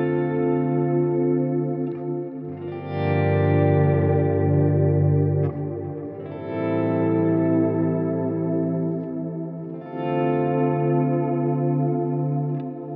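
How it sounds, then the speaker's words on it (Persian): Guitar swelling in on a volume pedal through chorus and echo effects, three or four sustained chords fading up softly from silence and blooming loud, alone and close. "مثلا برای مثال با پدال ولوم اگر بخوام که حالا سویل کنم"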